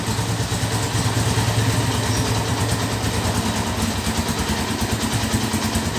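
A 2012 Honda Tiger motorcycle engine idles steadily up close, a loud, continuous low throbbing putter with an even rhythm and no talking.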